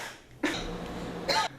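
A person coughs twice, two short, close bursts about a second apart with quiet room tone between them.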